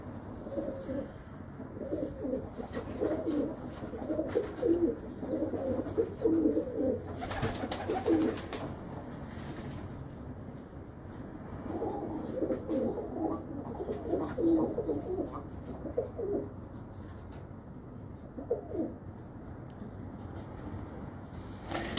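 A Sialkoti pigeon coos in repeated low, throaty bursts at close range, with quieter pauses between phrases and steady background ambience throughout.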